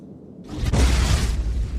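A Reducto blasting spell in the Harry Potter Order of the Phoenix video game erupts as a loud, close explosive boom, swelling abruptly from near silence into a sustained roaring burst for about a second.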